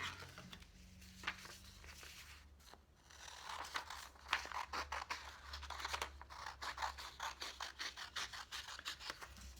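Scissors snip through a folded paper square, cut diagonally to trim off a strip; a run of crisp, close snipping and crinkling sounds, quickening toward the end, with no talking.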